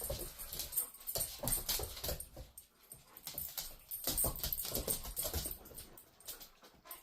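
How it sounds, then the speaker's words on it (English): Dogs indoors in a living room whimper and whine softly, mixed with restless pattering and shuffling, the sounds continuing in uneven bursts with no talking. "I can't guarantee the dogs will be quiet"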